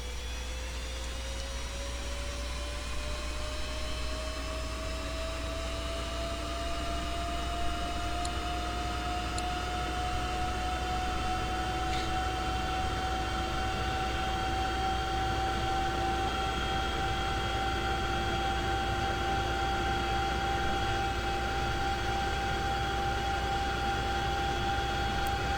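Twin turbine engines of a CH-47 Chinook helicopter in the X-Plane 11 flight simulator spool up with a steady, loud whine that slowly rises in pitch over a constant low roar, continuous with no talking.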